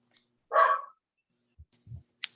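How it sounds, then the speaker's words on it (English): A pet dog somewhere in a home barks once clearly in the background, followed by a few faint yips and low whimpering sounds scattered across the quiet, with no talking. "You can probably hear my dog in the background."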